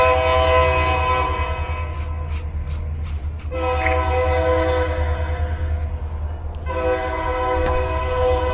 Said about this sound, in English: Wait till the train passes.